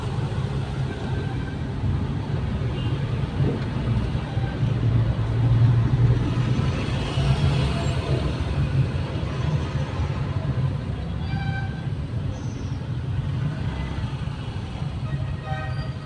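Early-morning road traffic around 5:20 a.m. opposite SM East Ortigas fills the background with a continuous low rumble of engines and passing vehicles, steady and moderately loud throughout.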